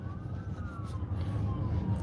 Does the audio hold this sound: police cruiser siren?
yes